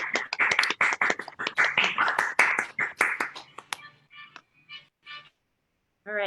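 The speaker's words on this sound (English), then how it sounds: "we'll give a big round of applause" Online meeting participants clap through unmuted microphones, an uneven run of close, sharp claps that thins to a few stray ones before a short silence, followed by a voice.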